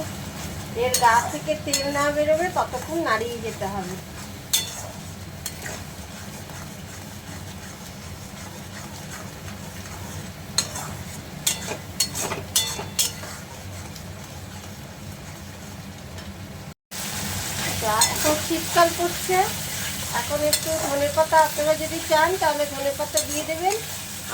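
Spicy lote fish jhuro stirred and frying in oil in a pan, a steady sizzle with scraping and occasional utensil clinks, a brief cut near the end, and faint background voices.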